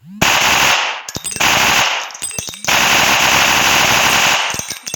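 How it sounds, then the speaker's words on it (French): Sustained bursts of M400N1 machine-gun fire from the Gun Pro video game, three long loud rattling volleys separated by brief gaps with a few clicks between them. "On va passer à la mitraillette. M400N1."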